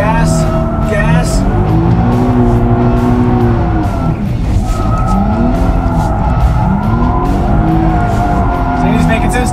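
A 2011 Infiniti IPL G Coupe drifts with a loud, continuous engine roar. Sweeping, wavering tire squeals rise and fall as the car slides back and forth.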